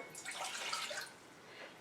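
Distilled water pours from a cup into a pan on a kitchen stove, a soft, continuous splashing trickle that is fairly quiet and close.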